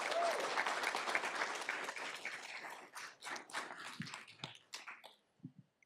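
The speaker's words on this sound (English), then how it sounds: "Everybody give her a round of applause." A school board meeting audience applauds a student champion from Bend High School, with dense, steady clapping that thins into scattered, separate claps before fading out near the end.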